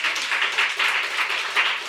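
A church congregation applauds together during a sermon, a steady wash of many hands clapping that swells and dips for a couple of seconds, with no talking over it.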